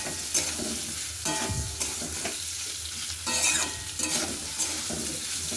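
Soybean chunks and potatoes frying in a pan, a constant sizzle punctuated by repeated scraping and clinking stirs of a spatula against the metal; no talking.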